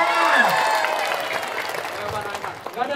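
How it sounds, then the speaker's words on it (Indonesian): A small audience claps briefly, the scattered applause fading under people talking nearby. "Tepuk tangan dulu"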